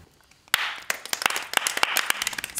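A small group claps by hand after an initial moment of quiet, with quick, irregular and fairly close claps that build into a scattered patter.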